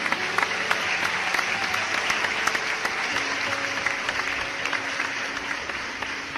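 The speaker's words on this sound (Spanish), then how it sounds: "Dale un aplauso fuerte a Jesús." A church congregation claps loudly and steadily for Jesus during a sermon, a dense, sustained wash of many hands filling the room with no speech over it.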